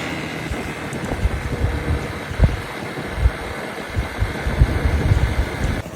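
A Honda SH scooter engine runs steadily with a continuous rough mechanical drone and occasional low thumps, fairly close and with no one talking.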